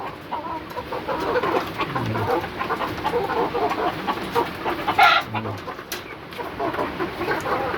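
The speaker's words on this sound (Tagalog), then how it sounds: "Nag-aaway-away na itong aking mga pambentang panabong na manok." Fighting gamecocks kept in a backyard cluck and squawk in a steady, busy chorus, several birds close by with occasional louder calls rising above the rest.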